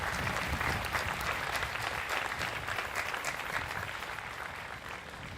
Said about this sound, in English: just a big round of applause for everyone that's out there for Manhasset